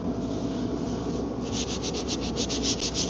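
Sandpaper rubbing out a faded putty line on the body of an Infiniti Q50 twin turbo during auto body repair, a close continuous hiss that turns into quick regular back-and-forth strokes midway.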